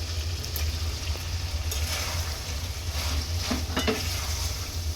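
Ripe tomatoes frying in a pan for a fish curry, giving a soft, steady sizzle under a low hum, with a few faint stirring scrapes toward the end and no talk.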